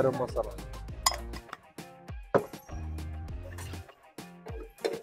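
Pav bhaji masala being stirred in a pan at a long-running Tasgaon pav bhaji stall, with repeated sharp metal clinks and scrapes of a spatula against the pan, close and busy, under low background noise.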